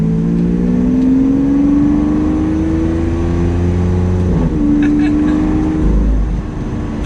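A Lamborghini Aventador LP700-4 V12 engine drones loudly, its pitch gliding downward as the car slows, with a throaty rumble throughout.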